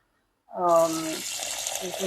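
After a moment of silence, water gushes steadily from a tap while food is washed, with a short voice at the start of the flow.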